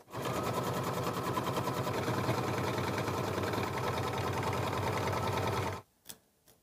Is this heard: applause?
no